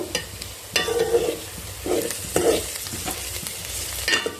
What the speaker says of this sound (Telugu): ఇప్పుడు పచ్చిమిర్చి వేసుకుందాం